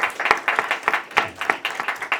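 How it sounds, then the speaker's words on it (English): Applause at a community networking event: a modest group claps at a fairly quick, uneven rhythm, distinct individual claps audible, close and moderately loud. "A round of applause for everyone"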